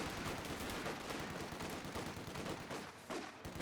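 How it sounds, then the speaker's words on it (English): An MG42 machine gun fires in a Company of Heroes 2 match as dense, continuous rattling gunfire. Other battle noise mixes in, and the sound stays steady and loud throughout. "Now we've got MG42 here."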